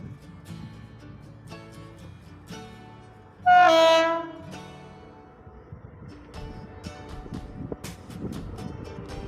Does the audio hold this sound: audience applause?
no